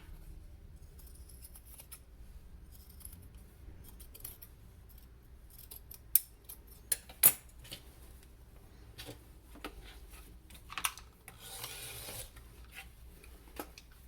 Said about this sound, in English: I'm actually going to take the scissors for a more perfect cut and cut right on the edge